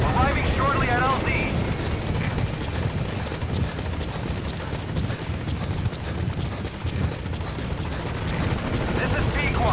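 In the Metal Gear Solid V game, the Pequod helicopter arrives at the landing zone with a loud, steady rotor roar that fills the whole stretch, and voices speak over it.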